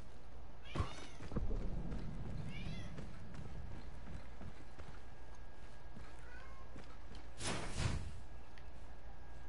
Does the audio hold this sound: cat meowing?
yes